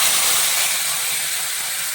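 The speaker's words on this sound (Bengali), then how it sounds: "আর এখানে আমি যে টমেটো লঙ্কা গ্রাইন্ড করে নিয়েছি এটাও দিয়ে দিচ্ছি তেলের মধ্যে।" Ground tomato and chili paste hitting hot oil in a pan, a loud steady sizzling hiss lasting a couple of seconds, close and alone with no talk.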